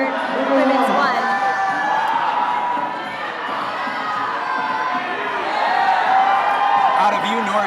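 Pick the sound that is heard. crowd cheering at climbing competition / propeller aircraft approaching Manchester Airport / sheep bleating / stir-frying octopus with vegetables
crowd cheering at climbing competition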